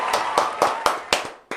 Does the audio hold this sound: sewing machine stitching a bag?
no